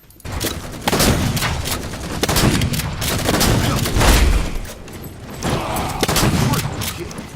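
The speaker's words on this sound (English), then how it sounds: "the cannon sound of the shotgun" Heavy shotgun blasts from Halo 4 boom repeatedly over a constant wash of battle noise, each blast loud and booming.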